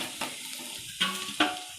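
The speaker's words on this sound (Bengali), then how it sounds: "ওদিকে মাংসটা গরম করতে দিয়েছি" Cooked meat reheating in a pan gives a soft, continuous sizzle, broken by a few sharp utensil clinks against the pan, close and moderately quiet.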